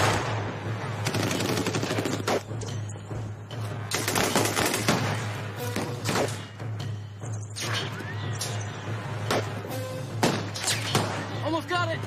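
Rapid gunfire from the villains' guns in a monster movie, repeated sharp bursts and cracks in quick succession throughout, with voices talking over the shooting.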